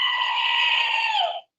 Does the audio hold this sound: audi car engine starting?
no